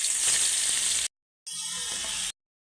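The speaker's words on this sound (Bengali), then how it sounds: "এবার মাছগুলো ভেজে নেব। কড়াই বসিয়ে তেল দিয়ে দিয়েছি" Pieces of rohu fish, coated in spice paste, sizzle loudly in hot oil in a wok, with a steady hiss in two bursts separated by a short silence.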